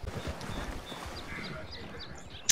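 Horse hooves clip-clop at a steady trot in Red Dead Redemption 2, a rapid, even patter that stays fairly quiet and close.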